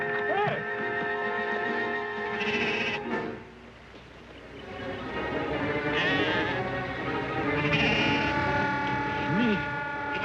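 Sheep bleat in short wavering calls in an old black-and-white television drama, mixed with swelling orchestral music and a busy outdoor scene, the bleats rising clearly at the start and again near the end.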